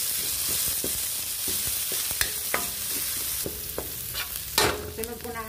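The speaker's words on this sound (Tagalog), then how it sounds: "dito na rin ako mag-gisa ng bawang" Garlic and onion sauté in a hot pan with a continuous crackling sizzle and occasional spatula taps and scrapes, fairly close and unbroken by speech.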